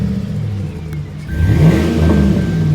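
A lifted 2004 Chevrolet Silverado 1500 Z71 with a 5.3L V8 idles with a low rumble, then revs up close and loud, holding a deep throaty roar as the engine note climbs and settles.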